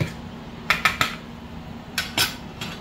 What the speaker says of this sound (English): So again, I'm just scrambling those 4 eggs that I just cracked.